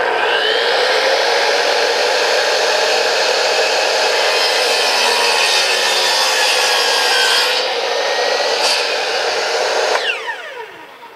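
A handsaw cutting through a measured wooden board for a privy build, steady continuous rasping strokes, loud and close, ending with the board breaking off near the finish.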